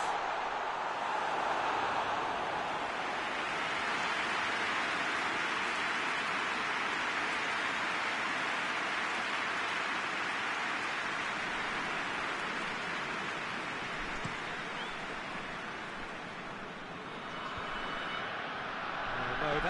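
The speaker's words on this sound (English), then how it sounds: "Rain starting to fall here." Steady rain hisses across a football stadium during a video game match, a broad constant wash that fills the whole stretch and dips slightly near the end.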